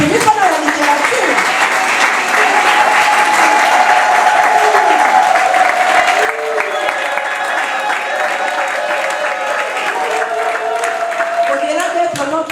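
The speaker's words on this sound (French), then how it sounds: "Je voudrais quand même qu'on applaudisse Papa Amos qui a fait un premier pas dans la littérature." Sustained crowd applause for an author at a book launch, loud and dense throughout, with a tonal sound and voices heard under the clapping.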